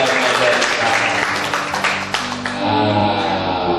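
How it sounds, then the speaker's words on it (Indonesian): A church congregation applauds, a loud sustained wash of clapping that fills the room and trails off near the end. "Kita berikan aplaus untuk apresiasi untuk"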